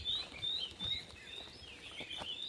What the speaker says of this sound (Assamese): যিহেতু আজি বৰষুণ দি আছে